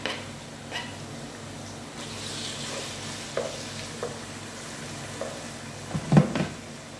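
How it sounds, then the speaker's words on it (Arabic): Chicken and onion frying in a pan give a soft, steady sizzle, with occasional light stirring clinks and scrapes close by. "بعد ما حمست اللحمة مع البصل"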